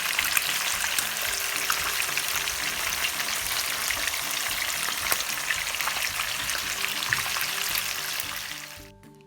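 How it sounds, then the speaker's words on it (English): Teriyaki-marinated salmon steaks seasoned with black pepper fry in a hot pan, giving a loud, steady crackling sizzle with scattered pops throughout, close up and without talk, fading away at the very end. "then we jump to frying."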